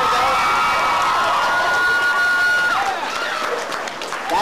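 Audience at a 2004 anime convention cosplay contest clapping and cheering, a loud sustained crowd roar with whoops that eases slightly toward the end.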